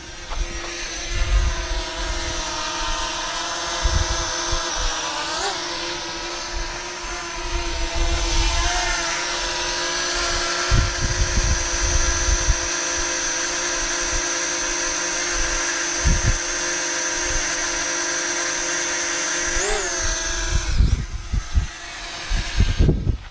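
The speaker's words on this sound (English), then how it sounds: "this is the most quiet drone there is" Parrot Anafi drone flying nearby, a steady high-pitched propeller whine held throughout with slight pitch wobbles, under intermittent low wind rumble.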